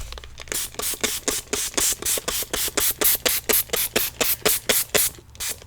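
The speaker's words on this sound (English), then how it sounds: "we're going to be spritzing this down with some water in our distress sprayer." A Distress sprayer spritzes water onto collage paper, with about eighteen quick, even sprays in a steady rhythm, each a short, close, bright hiss separated by brief gaps.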